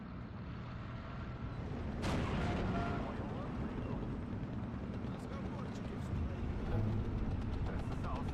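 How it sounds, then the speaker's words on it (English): Anti-tank gun fire in the Steel Division 2 World War II strategy game, with a sharp boom around two seconds rising out of a steady low rumble of battle noise, followed by further thuds. "there is now an AT gun firing at me"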